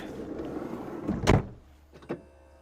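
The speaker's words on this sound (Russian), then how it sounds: "Смотрите, кстати, у нас в двери есть доводчик." A sliding door on a Mitsubishi Delica L400 minivan pulls shut under its soft-close latch: a single loud thud followed by two softer mechanical clicks as the latch draws it tight.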